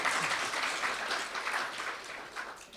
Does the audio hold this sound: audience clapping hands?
yes